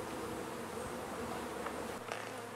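Honey bees buzz at a beehive in a dense, continuous hum that stays loud and close from start to finish, with no voices over it.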